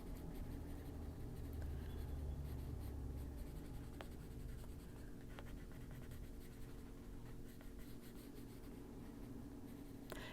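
Colored pencil scratching steadily across paper over a layer of Distress ink, shading a bumble bee's eye in a colouring book; continuous close, soft scraping strokes with no voices.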